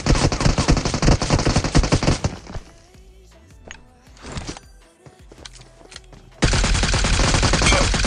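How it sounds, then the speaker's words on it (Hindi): Loud rapid automatic fire from an MK gun in BGMI, a dense burst lasting about two seconds, then quieter footsteps and thuds, and another sustained close burst at the end. "मैं इस बंदे को एमके से भर देता हूँ।"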